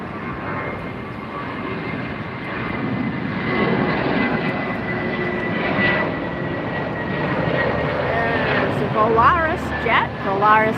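A Norse Atlantic airliner departs LAX with a loud, sustained jet engine roar that swells and shifts in pitch as it passes. Crowd noise and voices mix in underneath.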